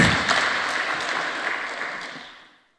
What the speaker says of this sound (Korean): 좀 박수 한번 치세요.